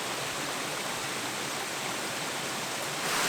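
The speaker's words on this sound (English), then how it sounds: "I've managed to find a primordial gully with another waterfall in it" Small waterfall cascading down a gully on a woodland walk, a steady close broadband rush of falling water with no break, alone and without voices.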